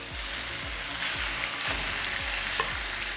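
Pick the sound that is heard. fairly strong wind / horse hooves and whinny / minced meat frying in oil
minced meat frying in oil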